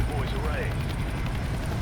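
Steady low rotor rumble of a helicopter in CS:GO fills the clip, constant and fairly loud, with faint game effects layered over it.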